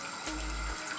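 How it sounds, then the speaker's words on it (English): Cold tap water runs onto a pressure cooker to cool it after cooking chicken soup, a steady rushing stream of about half a second, close and fairly loud. "So what I normally do is run cold water on top of it also."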